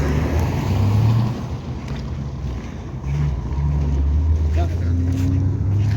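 Cars driving along a badly broken rural road near a riverbank in Tortkul district, a steady rumbling engine and tyre noise with wind buffeting the microphone, rising and falling as vehicles pass close by.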